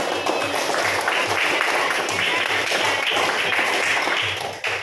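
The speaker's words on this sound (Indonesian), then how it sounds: "Tepuk tangan sekali lagi." Students in a classroom clap together in a dense, sustained burst of many hands, loud and steady across the whole stretch and fading right at the end, with voices mixed in.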